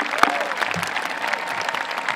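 Steady applause fills a high school graduation ceremony for the student speakers, a dense crowd clapping continuously throughout.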